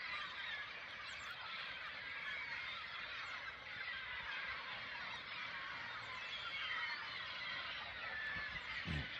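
Geese or other waterfowl honking and calling continuously, a dense, fairly distant flock chorus on Cape Cod with no pauses and no talking.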